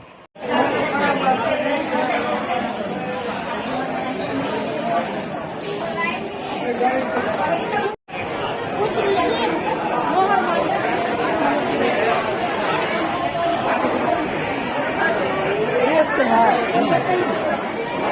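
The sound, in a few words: crowd of patients chattering at a hospital in Darbhanga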